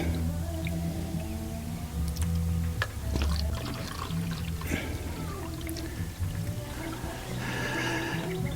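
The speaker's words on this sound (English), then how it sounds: "Looks like it might take till this weekend to get 4 gallons poured in there." Vinegar is poured slowly into an old water heater, a continuous trickling and gurgling of liquid with a steady mechanical hum beneath it and occasional small clanks.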